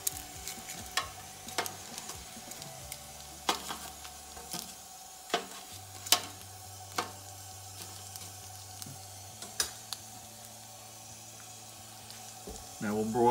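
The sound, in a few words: potato skins being flipped over, sizzling after broiling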